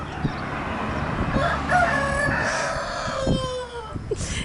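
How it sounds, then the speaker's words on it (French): A rooster crows out in the Portuguese countryside, one drawn-out cock-a-doodle-doo rising and falling over the middle of the clip, moderately close, with faint rustling and background noise around it. "on a même des coqs en plus"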